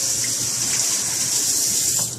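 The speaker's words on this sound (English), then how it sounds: "Rinse them off real well." A steady gush of tap water runs continuously while pork spare ribs are rinsed under it, close and even throughout.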